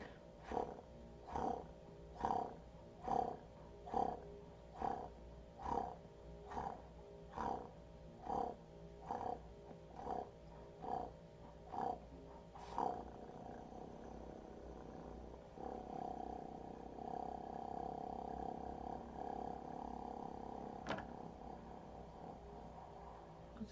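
A person imitates a cat's purr with relaxed closed lips, repeating short rhythmic bursts about twice a second, then shifting into a steadier, continuous rumbling purr, fairly quiet and with no talking.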